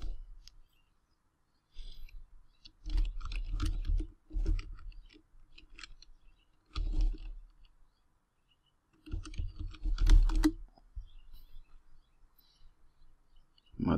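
Typing a search on a computer keyboard, short bursts of quiet clicking keystrokes separated by silent gaps, close and alone.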